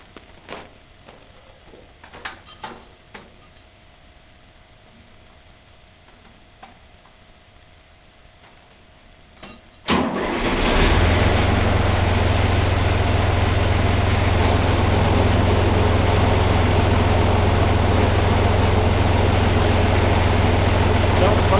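Quiet ticking and small knocks for several seconds, then a CountyLine tiller engine abruptly fires up and runs at a loud, steady low rumble until the end.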